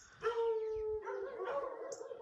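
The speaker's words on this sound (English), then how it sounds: "The dogs have been barking the whole night." A dog howls and yips outdoors in a small Portuguese town, a long drawn-out howl followed by a wavering second cry, fairly close and clear with no talk.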